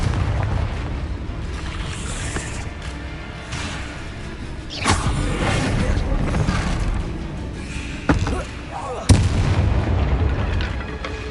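Fiery blast spells go off in a Hogwarts Legacy battle, several loud booming explosions over a rumbling game soundscape, with sharp hits arriving irregularly every few seconds.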